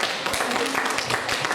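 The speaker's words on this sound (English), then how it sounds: "a big round of applause again for Costa Rica" Audience applause after a talk at a neurodiversity and SEND awareness event, a dense, steady patter of many hands clapping at moderate volume throughout.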